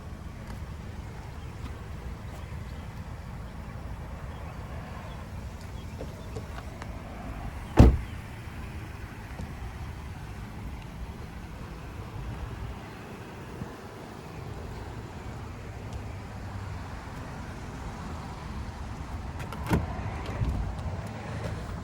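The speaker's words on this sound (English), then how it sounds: "And there's your power passenger seat." A power passenger seat motor in a 2019 Lexus UX 200 hums low and steadily inside the cabin, with one sharp click partway through and a fainter bump near the end.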